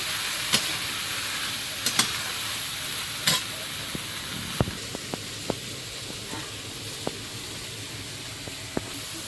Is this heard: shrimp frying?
yes